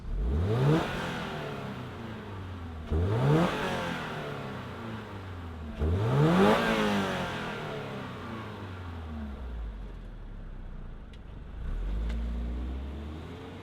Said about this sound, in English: let's fire up this base GR86 and hear what it sounds like